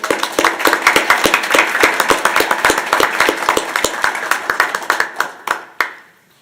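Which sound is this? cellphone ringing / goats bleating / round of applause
round of applause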